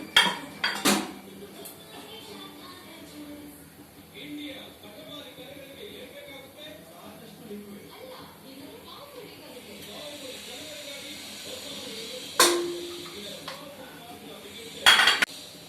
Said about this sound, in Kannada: ಇವಾಗ ಒಗ್ಗರಣೆ ಕೊಟ್ಕೊತಾ ಇದ್ದೀನಿ